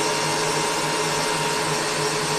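A whisk-fitted electric mixer beats marshmallow mixture made with albumin, giving a steady, loud, broadband whirr with a constant motor hum that runs unbroken throughout.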